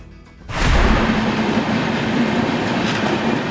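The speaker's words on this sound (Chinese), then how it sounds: "哇，一辆火车就这样过去了。" A train in Bangladesh, with passengers riding on its roof, rushes past close by after a brief quiet moment, its loud rumble and rattling wheels holding steady to the end.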